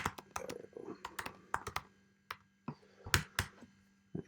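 Computer keyboard keys clicking while code is typed in Swift 5, with irregular crisp taps and short bursts, close and fairly quiet, with no talking.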